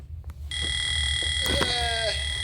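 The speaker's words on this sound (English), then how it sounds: "woke up at the sound of his alarm clock" An alarm clock rings with a steady, continuous electronic tone that starts abruptly and holds unbroken, fairly loud and close, with faint background noise underneath.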